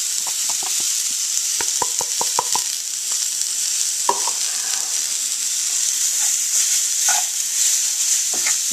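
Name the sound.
vegetables dumped into roux, sizzling and stirred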